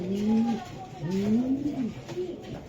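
A pigeon coos in a few rising, drawn-out calls, close by, with a voice talking faintly in the background.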